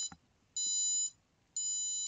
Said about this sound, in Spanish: Y escuchamos, pues, un pitido.